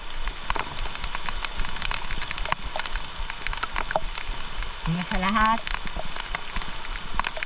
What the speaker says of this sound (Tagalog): It's just raining. Heavy rain.